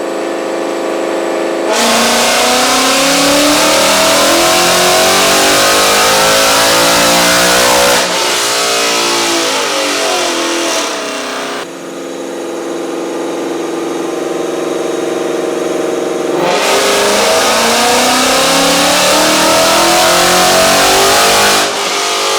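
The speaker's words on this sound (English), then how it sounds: "then we'll go ahead and rev it even higher" A low-7-second drag-racing Mustang engine revs loudly and close, its pitch repeatedly sweeping up and down in long pulls between brief cuts back to idle.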